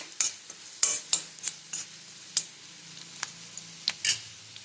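Onion and raw peanuts roasting in a pan for a watermelon-rind vegetable dish, with a faint sizzle beneath a dozen sharp, irregular scrapes and taps of the spatula against the pan.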